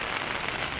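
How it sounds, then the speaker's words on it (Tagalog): Light rain falling steadily outdoors at a group motorcycle campsite near the sea, a soft, even hiss of drops on surfaces with no talk and no pauses. "Ayaw pa rin talaga tumigil ng ulan"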